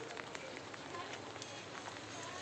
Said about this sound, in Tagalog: Ayan, umuulan o. Ang kulimlim yan. Umuulan siya. Basang-basa yung yung kalsada.